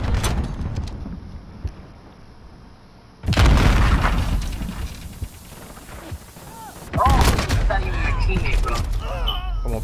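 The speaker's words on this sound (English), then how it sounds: "Grenade out!" Grenade explosion in Call of Duty Modern Warfare, a loud sudden blast cutting in abruptly with gunfire before and after it and a second burst of heavy combat noise later, with players talking over the action.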